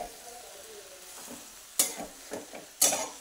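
Flower buds and raw moong dal are stirred in a pan over a soft background sizzle, with a few sharp scraping strokes of the utensil against the pan near the end, close and fairly quiet, with no speech.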